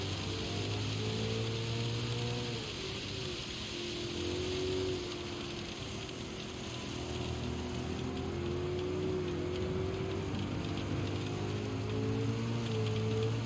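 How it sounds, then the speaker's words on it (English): Steady rain hisses down over the low drone of a racing car engine in a racing video game, a constant wash of noise with no talking. "is that the rain that I can hear just pounding down?"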